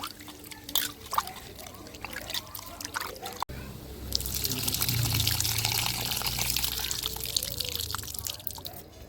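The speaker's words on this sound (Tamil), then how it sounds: "புளியை கரைச்சிக்கிடுவோம்" Tamarind is stirred and dissolved in water for a village-style onion curry, with soft dripping and trickling splashes at first, then a steadier gentle pouring and sloshing of water, close and fairly quiet.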